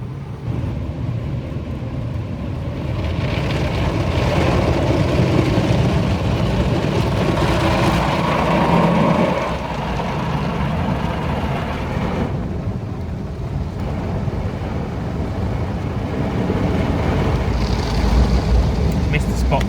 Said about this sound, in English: So there we go, car wash.